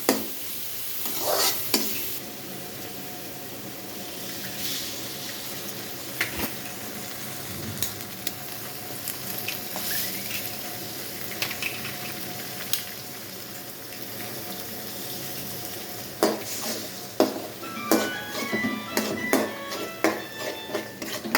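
Chopped carrot and cabbage sauté with egg in a pan, a soft continuous sizzle with occasional spatula scrapes and knocks, fairly quiet and close, with no speech.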